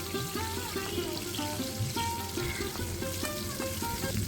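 Pointed gourd pieces fry in a pan with a steady close sizzle and occasional stirring clinks, alone with no talk, while tonal background music plays underneath.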